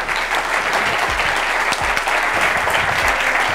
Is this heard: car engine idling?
no